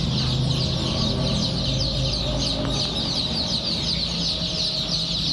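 Sonali super hybrid chicken chicks on a farm in Khulna make a dense, continuous chorus of high peeping that stays steady and fairly loud throughout.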